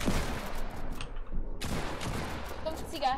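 Rapid bursts of gunfire in the Fortnite video game, dense and loud, with a short gap before the shooting resumes and voices talking over it.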